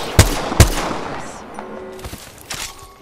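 Gunfire in the video game Apex Legends: two sharp, loud shots crack near the start, followed by scattered fainter bursts and distant pops over a busy background.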